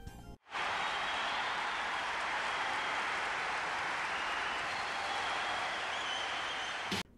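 A crowd cheers at a basketball game in the anime Slam Dunk, a steady, loud roar that starts abruptly and holds evenly for about six and a half seconds before cutting off.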